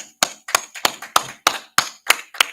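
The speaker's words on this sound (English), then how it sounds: "All right, let's clap it up, man." Steady unison hand claps from a group at an Israelite School of Universal Practical Knowledge brotherhood class in Houston, nine sharp, evenly spaced claps about a third of a second apart, close and clear with no talking.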